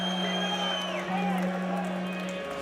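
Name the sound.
Irish boxing crowd applauding and cheering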